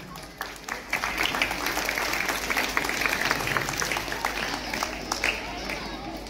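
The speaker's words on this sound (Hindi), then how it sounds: "जोरदार ताली बजाइए।" School audience clapping at a St. Mary's School Hindi Day event, a dense patter of many hands with sharper individual claps, while faint voices murmur underneath.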